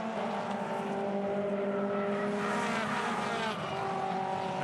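Toyota 86 race cars in a 2017 series race at Sydney Motorsport Park, their engines droning loud and close in a steady, overlapping whine that shifts slightly in pitch as they hold position.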